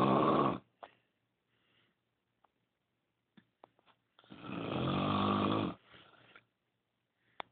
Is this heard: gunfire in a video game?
no